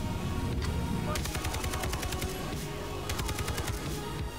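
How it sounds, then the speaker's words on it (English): Guns picked up off the floor firing in a modded Far Cry 3, with rapid broadband shots in dense bursts under a constant busy game mix. "But at least the guns on the floor still shoot."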